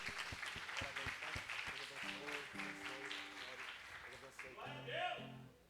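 A church congregation claps steadily while a preacher speaks over the applause, rising to a louder exclamation near the end.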